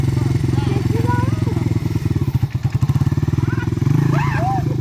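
Dirt bike engine running nearby, a loud steady throbbing idle with rhythmic pulsing, under people talking.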